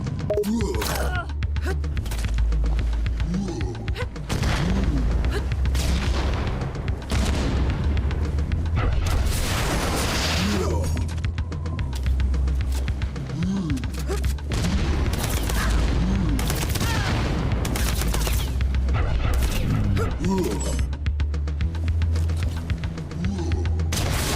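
Video game gunfire, rapid bursts of shots and booming impacts repeating throughout at loud, close level with little pause.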